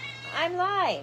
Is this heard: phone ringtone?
no